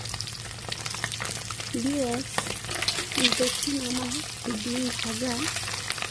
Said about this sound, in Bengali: ডিমগুলো যখন ব্রাউন কালার রঙ ধারণ করবে তখন আমি ডিম ভাজা অফ করে দেব বা তুলে রাখবো